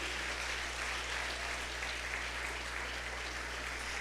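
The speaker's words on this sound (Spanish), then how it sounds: "Dele una ofrenda de palmas al Rey de Reyes." Sustained applause from a church congregation during a sermon, a dense, steady wash of clapping hands heard at moderate distance, continuous throughout with a low electrical hum underneath and no voices standing out.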